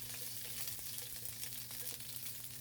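Garlic toasts in a pan for chicken adobo, giving a faint, steady, even sizzle with small crackles and nothing else around it.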